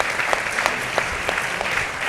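An audience at a policy forum at the National Press Club applauds briefly, a dense steady clapping with a few sharper individual claps standing out.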